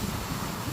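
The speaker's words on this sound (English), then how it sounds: "Very windy day." Strong hurricane wind in Miami, Florida, buffeting the microphone in a steady loud rumbling roar near a front porch and garage, with no talk heard.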